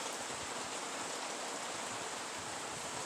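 Rain falling outdoors makes a steady, even hiss of close, dense drops that holds unchanged throughout, with no voices.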